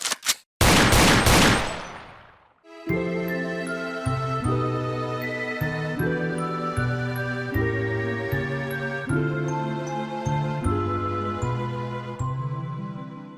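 Gunfire in a shootout from the video game Parasite Eve: a dense cluster of loud shots opens, then sustained game music with tonal hits carries on without speech.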